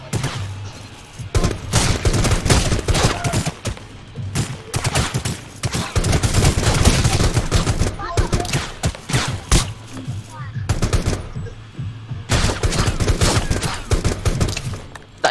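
Rapid bursts of gunfire fill a Rules of Survival battle royale match, loud and close, with repeated automatic volleys separated by brief pauses and players talking over them.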